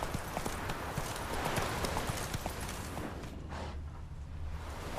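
Roach the horse gallops in The Witcher 3, a steady rhythmic clatter of hooves carrying on close and loud across the whole stretch, over a low rumbling game ambience.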